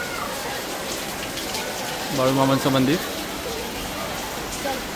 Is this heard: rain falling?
yes